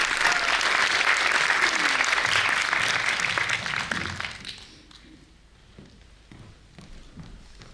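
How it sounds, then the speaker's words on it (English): Audience applause at a women's rights event in Iceland: dense, loud clapping from a crowd that fades after a few seconds into scattered claps and quiet room noise. "Brynhildur, give her applause."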